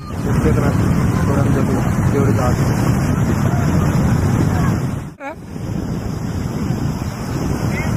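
Surf breaking steadily on Arambol beach in North Goa, a broad continuous wash of waves with wind buffeting the microphone, loud and unbroken apart from a brief dip midway.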